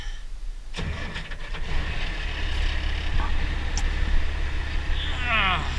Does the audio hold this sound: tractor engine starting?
yes